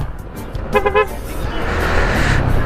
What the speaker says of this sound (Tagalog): Yun, napakaaga pa pero may traffic na